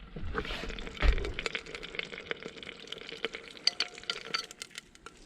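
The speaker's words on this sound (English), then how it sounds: "Just gonna keep stirring it, stirring it." A waterproofing mixture melting in a pot on heat is stirred steadily, giving soft scraping and light sizzling and liquid sounds, close and fairly quiet, with no talking.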